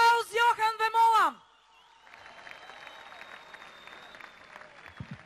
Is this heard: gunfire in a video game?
no